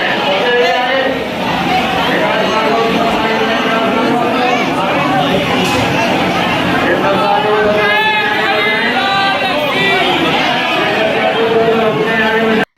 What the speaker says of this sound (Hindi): इतनी ज़्यादा भीड़ होती है कि पैर रखने के लिए भी जगह नहीं होती